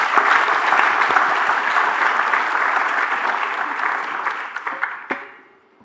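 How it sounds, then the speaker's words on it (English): Sustained audience applause in a hall after an expert university lecture, a steady dense patter of many hands that gradually fades and stops with a final few claps. "Let's give another round of applause."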